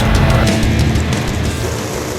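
NHRA drag race car launching at the Mopar Mile-High Nationals, a loud, dense engine roar that holds strong for about two seconds and then eases slightly as the car pulls away.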